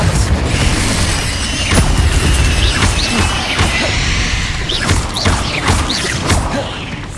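Confringo and Expelliarmus spell impacts in Hogwarts Legacy hit repeatedly as crashes, thwacks and bursts over a constant rumbling combat backdrop, with no talk.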